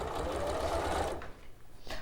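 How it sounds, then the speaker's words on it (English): A sewing machine stitches viscose fabric in a fast, steady whirring run for about a second, then stops briefly and gives a short final burst, close and clear. "you will need a sewing machine or an overlocker"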